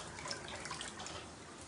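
Floodwater sloshing and trickling inside a flooded house during a flood in Ussuriysk, Primorye, with water nearly knee-deep in a room; a steady, soft, close wash of moving water with no voices.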